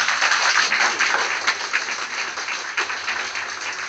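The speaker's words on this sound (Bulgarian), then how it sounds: "Благодаря ви още веднъж за аплодисментите" Wedding guests applaud in a reception hall, a continuous, fairly loud patter of many hands that slowly tapers, with no talk over it.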